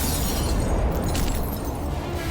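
Massive Beirut port explosion heard in news footage from a house several hundred metres away, a loud sustained roaring rumble with a blast wave that fills the whole clip.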